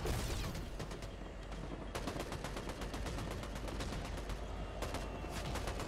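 Rapid automatic gunfire in a video game, dense continuous bursts of shots with brief gaps between volleys, loud and filling the scene, with no voices.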